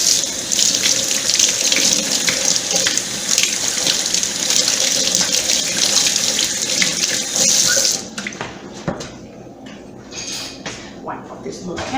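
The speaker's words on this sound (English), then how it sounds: "I'm going to wash my hands. Get this egg off my fingers." Water runs steadily from a kitchen sink tap as hands are washed under it, a loud continuous splashing stream that cuts off abruptly partway through, leaving quieter handling noises and light clatter.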